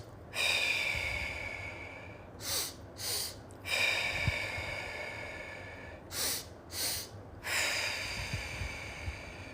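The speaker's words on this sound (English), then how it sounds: "2 inhales and 1 long, slow exhale" Guided breathwork: each cycle is two quick, sharp inhales through the nose followed by one long, slow, audible exhale. The pattern repeats several times, close and clear, with no talking.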